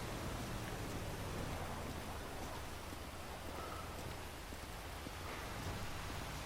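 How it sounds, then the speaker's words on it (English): Steady rain pours in the video game GTA5 on a road at night, a dense, even hiss with scattered drops, close and continuous throughout. "it is 11:46, raining in GTA5"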